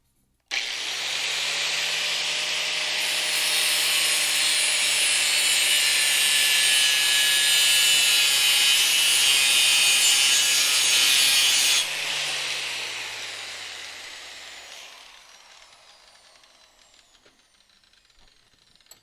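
A hand saw cuts steadily through wood in a garage workshop, a loud continuous rasping that runs for about eleven seconds before tapering off and fading, with no talking.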